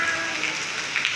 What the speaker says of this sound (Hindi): तो फाइनली बहुत अच्छी बारिश हो रही है अभी